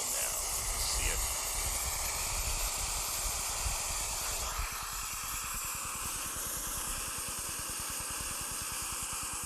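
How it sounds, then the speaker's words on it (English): Water coming to a boil on a small camping stove outdoors, a steady roaring hiss from the burner that shifts into a rapid fluttering rumble, continuous and close. "Doesn't take long for the water to boil with this little stove."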